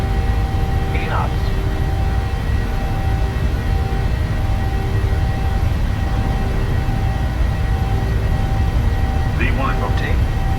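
Boeing 737 jet engines at takeoff thrust in the PMDG flight simulator, a steady loud roar with faint tonal whine, continuous throughout under a voice talking.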